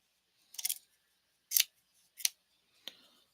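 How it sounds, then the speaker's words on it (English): Scissors snip through material while trimming a craft project, four short separate cuts spaced across the clip, close and moderately loud with no talking. "now I'm just gonna trim it down just a little bit"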